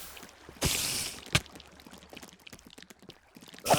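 Water flows and splashes in Minecraft, a soft rushing pour that rises in two louder bursts, with scattered small clicks and trickles between them, close and moderately loud, with no talk.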